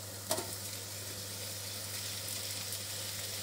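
Rinsed fennel fries in hot oil with a steady, even sizzle that holds throughout, opening with a brief clatter before the crackle settles.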